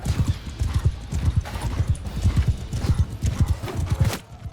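Horses galloping through a medieval battle in the video game Mount & Blade II: Bannerlord, a dense rapid drumming of hooves, close and loud, with a brief whinny among the pounding.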